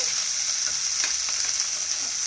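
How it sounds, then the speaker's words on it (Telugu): Onions fry lightly in a pan for sambar, a steady close sizzle holding evenly throughout with faint scattered stirring ticks on top. "ఆనియన్స్ వేసుకొని కొంచెం లైట్గా వేగనివ్వాలి."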